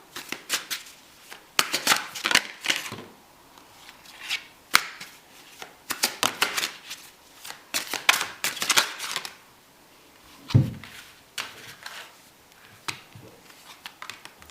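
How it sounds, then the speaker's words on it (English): Tarot cards shuffled by hand in bursts of crisp riffling and flicking, with short pauses between handfuls and a soft thump of the deck near the end, heard close with no talking. "So I'm going to pull some tarot as well, to see anything else that comes through."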